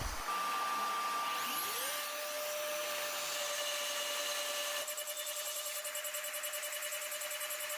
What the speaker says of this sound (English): I needed to machine from both sides because the tool is too short.